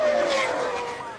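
A Formula One race car engine screams at very high revs, a brief loud whine that fades slightly as it passes.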